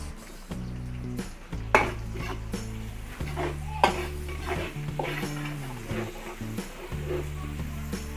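Garlic and onion sizzle steadily in a pan while a utensil stirs and scrapes against the metal in repeated strokes, with occasional clanks, close and moderately loud with no talking.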